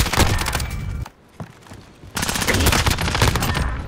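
Rapid automatic gunfire in Call of Duty Modern Warfare (2019), loud and close, in two long rattling bursts separated by a short quieter gap with a few isolated shots.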